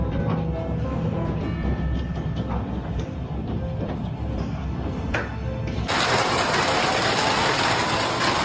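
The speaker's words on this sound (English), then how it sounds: "The sound of hail smashing against everything seemed to crush everything in its path" Dense, steady baseball-sized hail in Alberta, Canada clatters and roars against surfaces, a constant hammering wash that swells even louder and brighter in the final seconds.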